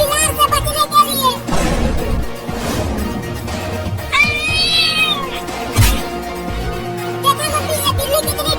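A cat in a cartoon meows and yowls repeatedly in drawn-out, wavering cries, mixed with crashes and thumps, while people talk excitedly over the commotion.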